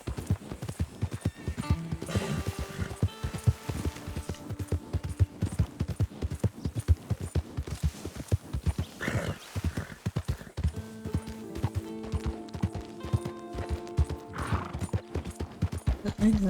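Horse hooves clip-clopping in a steady rhythm in Red Dead Redemption 2, with loud neighs and whinnies breaking in twice over a low game hum.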